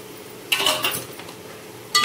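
Capsicum and chopped onion sautéing in a pan, heard as two bursts of a utensil scraping and clattering against the metal with a quiet pause between, close and fairly loud.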